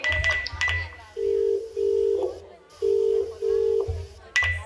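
A phone line's ringback tone purrs in short repeated pairs, thin and steady as if through an earpiece, with faint clicks and brief sounds at the edges.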